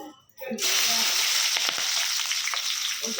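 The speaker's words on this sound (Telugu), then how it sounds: "ఉల్లిపాయలు చేసిన బాగా నూనె వేడి అయింది" Onions hit hot oil in a pan and a loud, close sizzle bursts in after a brief quiet moment, then hisses on steadily with a few stirring scrapes.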